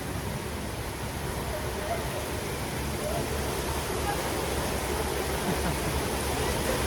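A heavy outdoor downpour during a summer fan convention, with dense, even rain hissing steadily and building slightly throughout.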